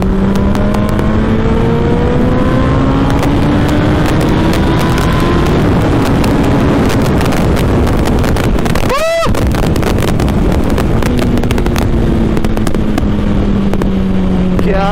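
A Suzuki Hayabusa motorcycle roars loudly and steadily while being ridden, its engine note rising and falling under constant heavy wind buffeting on the microphone, with a brief sweeping whoosh midway.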